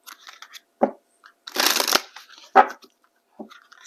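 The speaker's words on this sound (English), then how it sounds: "let's go ahead and grab some tarot. I'll be pulling from my TANIELU tarot here." A deck of tarot cards is shuffled up close in a few quick riffling bursts, with a longer flutter in the middle, separated by brief quiet pauses.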